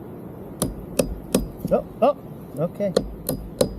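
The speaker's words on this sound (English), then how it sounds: "I'm gonna just give it a little tap with the hammer." A hammer taps a chisel into wood to cut a clean notch, with sharp knocks coming in a steady series of about ten, close and loud, while someone speaks briefly between the strikes.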